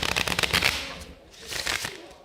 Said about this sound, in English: I'm going to go through the whole shuffle